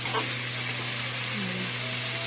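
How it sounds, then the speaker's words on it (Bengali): Chicken pieces fry in a pan, a loud steady sizzle with crackling spatter and occasional stirring, close and continuous throughout. "চিকেনটা এখন ভাজা ভাজা হবে।"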